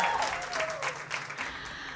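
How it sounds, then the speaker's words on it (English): A studio audience applauds a board-certified dermatologist at a skincare talk show event, a steady wash of many hands clapping at moderate distance for two seconds with no one speaking. "Please give her a round of applause again."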